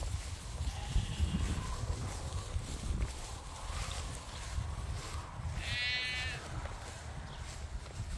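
Sheep bleating on a farm pasture: one clear, wavering bleat stands out midway at moderate distance, with fainter calls, wind and rustling in the background.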